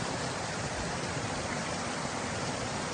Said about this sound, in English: Oh, obviously besides the noise of the river.